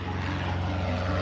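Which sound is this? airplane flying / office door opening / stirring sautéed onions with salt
airplane flying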